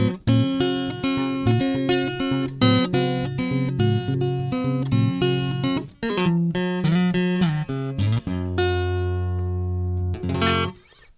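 A guitar played fingerstyle with no effects rings out alone in clean plucked notes and chords, bright and close, ending on a sustained chord that fades.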